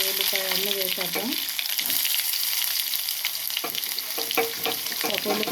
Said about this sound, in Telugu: తాలింపులు చిటపట ఉన్నప్పుడు ఇంకా ఉల్లిపాయ అన్నీ వేసేద్దాం.